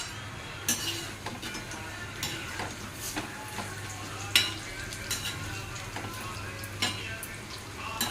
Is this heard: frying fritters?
yes